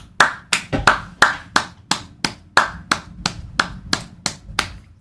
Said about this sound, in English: Slow clap for that, man.